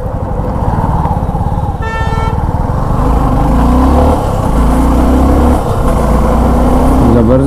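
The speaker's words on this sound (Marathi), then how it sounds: "इकडे बघू शकता कडक असा ट्रॅफिक लागलाय." Dense highway traffic jam near a bridge on the Mumbai–Goa highway, with loud continuous engine rumble from motorcycles and cars and repeated horn honks, one sharp toot standing out, all close and constant.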